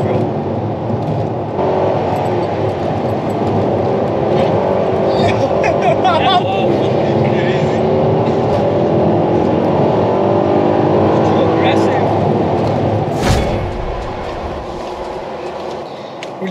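A Mercedes C63 AMG driven hard on a public street, its engine roaring loud and close inside the cabin with rising and falling revs, dropping off sharply near the end.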